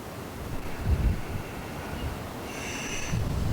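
Steady wind noise rumbles against the microphone, with low gusty buffeting that swells near the start and end.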